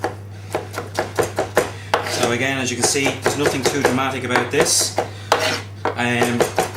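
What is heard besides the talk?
knife rough-chopping tomatoes for concasse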